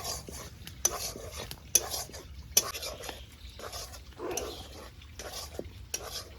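Gram flour (besan) is fried in a pan at low volume, with soft sizzling under intermittent stirring and several sharp utensil clicks against the pan at irregular intervals.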